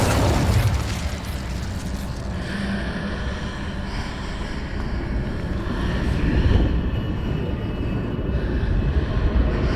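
An Incendio fire spell in Hogwarts Legacy gameplay, a loud sustained roaring whoosh of flame with bursts layered over game ambience, steady for several seconds.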